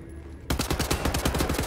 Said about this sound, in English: Let's just use a normal assault rifle.